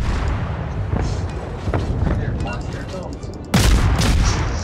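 Heavy naval guns firing in World of Warships, a battleship engagement: scattered distant booms over a steady rumble, then a loud, close blast near the end, with faint voices talking underneath.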